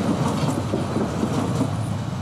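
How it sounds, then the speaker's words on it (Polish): A tram rumbles past close by in Kraków, with a steady rolling clatter of wheels on rails over a few seconds. "Niech przejedzie sobie na spokojnie tramwaj."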